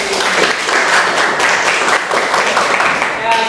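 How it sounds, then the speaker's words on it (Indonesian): Applause in a classroom teaching session, a few seconds of fairly loud, steady clapping from a group, with a voice briefly heard at the end. "Ya, tepuk tangan buat Adli."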